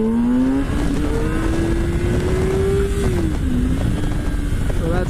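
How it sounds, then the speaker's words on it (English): A motorcycle doing a power wheelie in first gear with the throttle dumped roars loudly and close up, its engine note climbing steadily, dipping, then rising again. "I'll do a power up wheelie in first"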